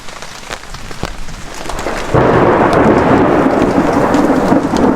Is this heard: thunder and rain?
yes